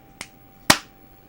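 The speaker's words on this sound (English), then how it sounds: "You did a clap." Two sharp hand claps are made as a sync test during an online call. A faint first clap is followed half a second later by a louder, crisper one, and the room is otherwise quiet.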